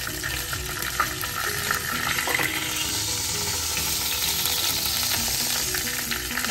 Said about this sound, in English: also cooking onions because I want to avoid the moisture they will be releasing